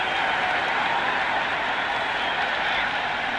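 A large cricket crowd in the Cricket 26 video game roars in a steady, broad wash of cheering and some clapping throughout, close and loud, with no distinct voice over it.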